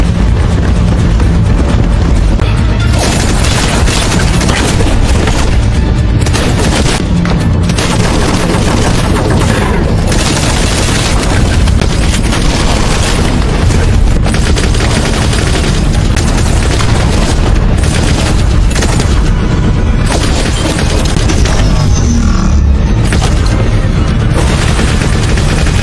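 A film battle on board an alien ship roars with constant explosions and bursts of gunfire, loud booms and rapid volleys overlapping without a pause, close up and intense.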